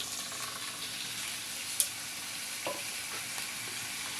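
Sliced potatoes frying in hot oil, a steady broad sizzle with a couple of faint scraping stirs and a small clink, moderately loud and with no voices.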